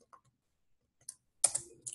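A few sparse, quick keystrokes on a computer keyboard while typing Python code, light clicks in small bursts with short pauses, close and fairly quiet.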